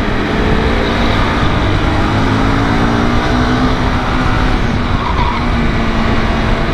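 A Honda CBR250R motorcycle rides at speed, giving a loud, continuous engine drone mixed with rushing wind noise that holds steady from start to finish, with no talking.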